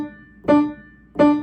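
Two separate piano notes sound, each struck cleanly and ringing briefly before fading, close and clear with no talking.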